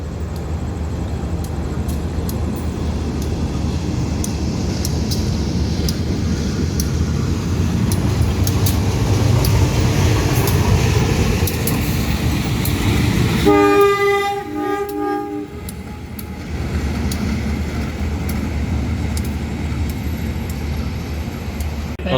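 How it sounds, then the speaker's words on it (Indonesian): A shunting locomotive rumbles and clanks close by at a railway station, then sounds a loud, sustained horn blast before the heavy rolling noise of the rail cars returns. "Lokomotif Langsir"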